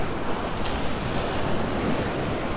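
Rough stormy surf on a Fiolent beach near Avtobat, a continuous close roar of churning waves mixed with wind buffeting, no voices.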